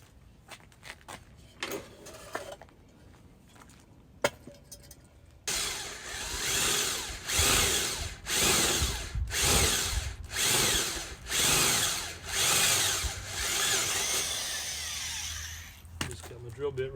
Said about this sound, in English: Drill bit real shallow.